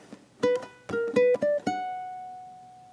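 Ukulele picking a short gypsy jazz waltz phrase: a few quick plucked notes, a brief triplet, then a final note left ringing and slowly fading, played alone and up close.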